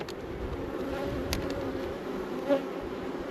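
Honeybees from a double brood colony buzz in a steady, even hum, fairly faint and close, with one brief louder pass near the end.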